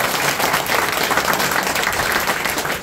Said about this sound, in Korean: 너무 큰 박수 한번 딱 부탁드리겠습니다